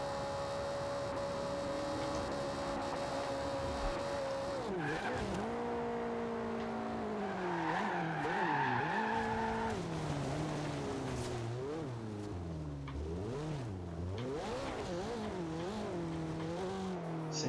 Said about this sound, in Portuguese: Vocês a mais de 300 km por hora no Eclipse. Cortando giro em sexta marcha.